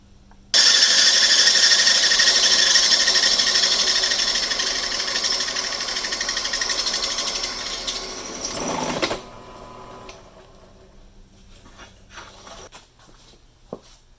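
A drill turning a large bit slowly grinds loudly and steadily for several seconds, then cuts off, leaving faint rattles and quiet shop noise.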